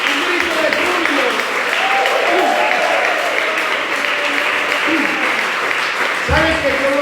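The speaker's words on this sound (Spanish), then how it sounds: "Dale un aplauso fuerte, fuerte a Dios" A church congregation claps loudly and continuously during a deliverance service, with shouts and voices rising over the dense applause throughout.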